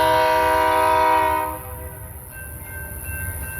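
A BNSF train's horn blares loudly with a rich chord for over a second, then cuts off, leaving a lower rumble of the passing train with a faint lingering tone.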